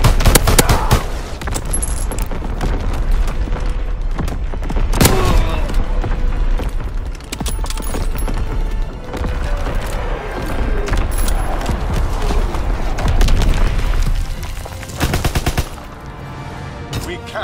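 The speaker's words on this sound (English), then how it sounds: "Firing battery one. Target position confirmed. Firing for full effect." Relentless artillery barrage in a video game: dense, loud booms and rapid gunfire crowd every moment, with heavy impacts stacking into a continuous roar that dips only briefly near the end.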